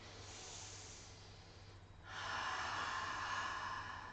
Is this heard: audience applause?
no